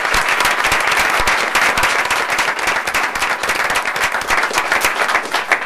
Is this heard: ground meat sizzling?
no